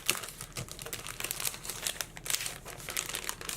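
Plastic packaging around stickers crinkles and crackles in quick, irregular bursts, close and fairly quiet, as it is handled and torn open.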